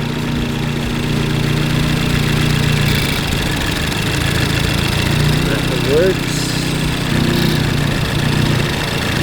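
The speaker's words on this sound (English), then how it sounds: "I can hear and feel the injector fire, and you can hear the engine change" A Ford Focus ST engine runs steadily at a low idle-like drone on rollers during a fuel injector test, with a brief voice speaking over the continuous rumble.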